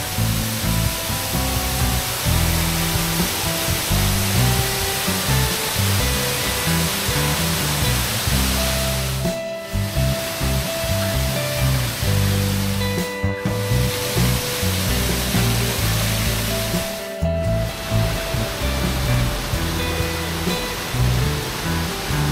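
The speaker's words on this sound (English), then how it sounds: "I can hear a waterfall in the distance as well" Steady roar of a waterfall in the distance, a dense, continuous rush of water holding even throughout with no voices over it.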